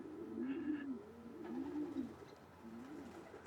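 Racing pigeons in a loft coo in soft, repeated rolling calls, several phrases in a row at a moderate distance, with faint background chirps and no talking.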